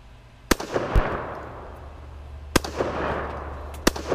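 A Russian Tula SKS rifle firing 7.62x39 ammunition at a range lets off three sharp, loud single shots spaced a second or more apart, each with a short echoing tail.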